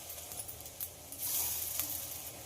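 Lentil and boiled-egg fritters frying in hot oil in a pan give a soft, steady sizzle with a few brief crackling bursts, fairly quiet and with no talking.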